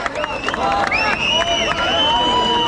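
A crowd cheers and whistles at a Dahi Handi festival in Kankavli as a Govinda troupe attempts a seven-tier human pyramid. Shrill whistles rise and fall over a dense, steady roar of voices.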